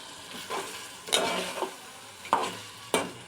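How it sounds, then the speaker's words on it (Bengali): Washed meat with torn bay leaves and spices being stirred in a hot pot, giving a steady frying sizzle broken by a few sharp scraping stir strokes, close and fairly loud with no talk. "গোস্তগুলো ভালো করে ধুয়ে দিয়ে দিতে হবে।"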